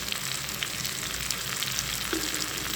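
Spices including red chili powder, coriander and whole chilies sizzle in a pan for egg ghotala, a continuous dense frying crackle with faint stirring scrapes, no voices.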